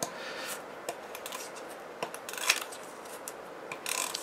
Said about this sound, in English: use my tape runner for that, making sure it's all stuck